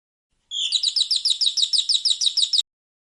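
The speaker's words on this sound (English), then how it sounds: "Canary." Canary singing a fast run of rapid, repeated bright trills, about two seconds of steady rhythmic chirping, close and clear against silence.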